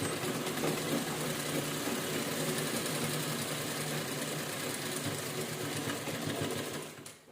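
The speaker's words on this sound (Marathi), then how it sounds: "पूर्ण ह्याला पण आपण शिलाई करून घेऊया." A sewing machine runs steadily, stitching an old towel for a kitchen hand cloth, with a continuous close whirring hum that carries on without a break and then winds down at the very end.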